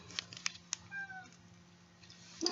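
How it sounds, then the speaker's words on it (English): A pet cat gives a faint, brief meow from a distance in a quiet kitchen, a single short call surrounded by soft clicks and handling noises. "Oh, and I hear my cat."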